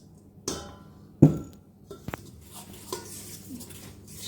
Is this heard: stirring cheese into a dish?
yes